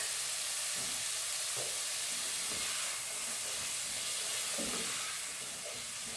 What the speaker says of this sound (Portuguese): Vamos deixar que a cebola fique bem fritinha